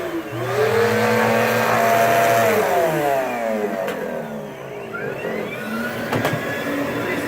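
A vacuum cleaner motor runs loudly and close, its whining tone swelling and then sweeping through shifting pitches as it revs, with no voices.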